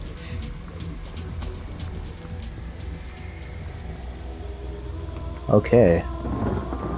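Rain pours steadily while a rain spell takes effect in the fantasy video game Divinity: Original Sin, with a loud thunderclap cracking near the end; a voice speaks briefly under the storm.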